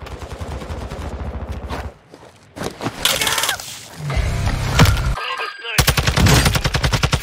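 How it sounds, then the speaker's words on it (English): Loud bursts of automatic gunfire from Call of Duty DMZ, rapid rattling volleys broken by a short lull, with scattered game radio chatter and voices mixed in. "You are taking effective fire."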